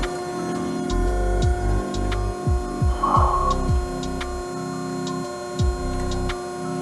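A 250-ton hydraulic straightening press for tubing, shafts and beams runs with a steady mechanical hum and a series of rhythmic low thumps and surges as it works, near and loud, with no talking.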